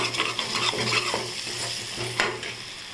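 Fish podimas masala sautéing in a pan, a steady sizzle and frying crackle with repeated stirring scrapes of a spoon through the mixture, close and continuous with no talk.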